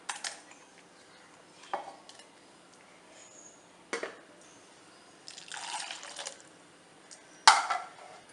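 Ground tomato for tomato rasam is scraped and poured from a grinder jar into a bowl, heard as a few sparse, quiet metallic clinks, knocks and wet scrapes separated by near silence.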